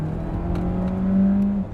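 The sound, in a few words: hybrid car accelerating on electric motor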